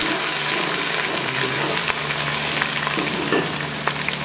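Ginger and garlic fry in a pan with browned onions, a loud, steady close sizzle with occasional stirring scrapes running throughout, no voices.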